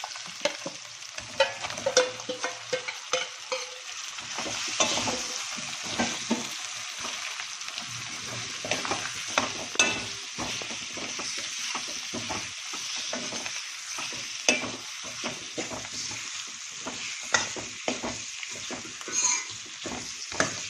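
Chicken pieces with spinach frying and being stirred in a pan for palak chicken fry, a continuous sizzle with frequent scraping strokes and bumps from the spoon throughout, close up and without speech.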